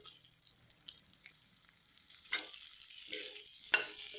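Boiled potatoes added to a pan of hot oil with green chilli, a faint low sizzle broken by a few sharp spatters and stirring scrapes, quiet overall with no voices.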